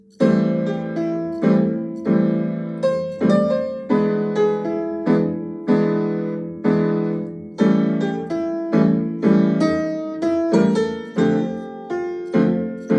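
Jazz piano playing a tune, a melody line over a swinging left-hand chord rhythm, with steady repeated chord attacks and decays throughout, close and solo with no talking.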